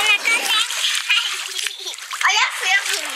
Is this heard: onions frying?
no